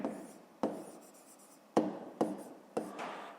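Pen strokes writing down a math answer on paper during a 5th-grade division exercise, with about five short scratchy strokes starting sharply and trailing off, close and fairly quiet, with no speech.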